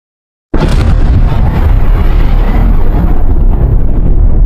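A sudden deep, roaring blast representing a supernova bursts in after a moment of silence, then holds as a loud, dense rumble that stays sustained and powerful to the end.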